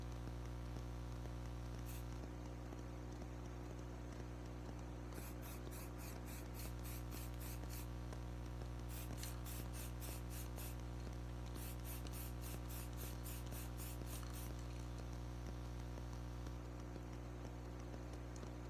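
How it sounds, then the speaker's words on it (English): Spray paint hisses in repeated short bursts over a steady hum, the can rattling and spraying close by. "spray paint it."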